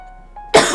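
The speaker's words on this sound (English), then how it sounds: "I am coughing like right in your ear" A sick narrator coughs once sharply and close up, followed quickly by a second shorter cough, after near silence.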